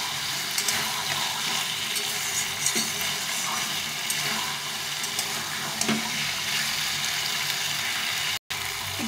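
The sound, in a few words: bottle gourd frying with spices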